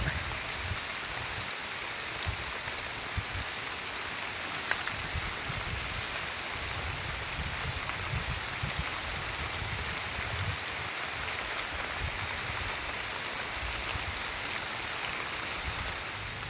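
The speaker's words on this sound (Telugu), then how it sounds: "భారీ వర్షం కురిసేస్తుంది" Heavy rain pours down during a storm, a dense, even roar of falling water with a low rumble, steady throughout and with no one talking.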